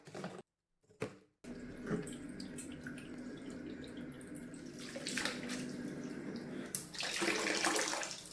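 Tap water runs into a container holding frozen chicken feet, chicken legs and duck wings to thaw them, a steady close splashing flow that starts after a brief silent gap and grows fuller toward the end.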